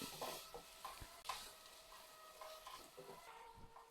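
Ginger and garlic sautéing in a pan, a faint low sizzle broken by scraping stirs and a few light clinks of a utensil against the pan.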